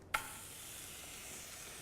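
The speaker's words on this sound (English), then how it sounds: "Get a good little sizzle out of there." Ground turkey for chili hitting a hot pan, a sudden sharp sizzle burst followed by a steady, fairly quiet frying hiss.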